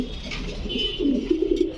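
A pigeon coos close by, a soft low throaty warble that swells and pulses toward the end.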